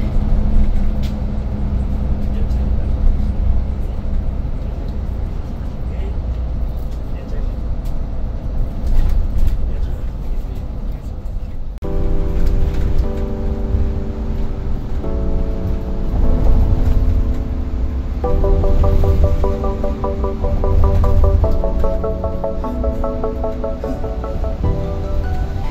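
Steady low rumble of a PO Sumber Alam bus cruising on a toll road, heard from inside the cabin, with continuous road and engine drone and a tonal hum that rises and shifts in the second half.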